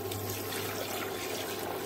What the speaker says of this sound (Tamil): ஒரு செம்பு தண்ணி